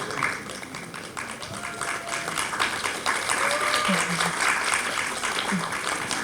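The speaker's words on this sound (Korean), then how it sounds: "박수로 맞이해 주시면 감사하겠습니다" A press-conference audience at a film premiere for the Korean movie Highway Family applauds to welcome the director and cast, moderate steady clapping with some voices and small noises mixed in.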